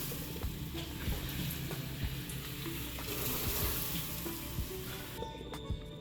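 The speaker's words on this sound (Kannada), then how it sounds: "ಇವಾಗ 2 ಸೌಟ್ ಎಣ್ಣೆಯನ್ನು ಹಾಕ್ತಾ ಇದ್ದೇನೆ" Hot oil is poured into a mix of urad dal and rice flour, raising a steady, dense sizzle and crackle close by that keeps going the whole time with no talk.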